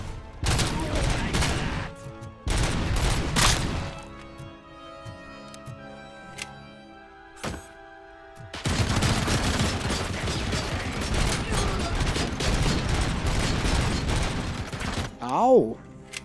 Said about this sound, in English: My shots seem to have done nothing.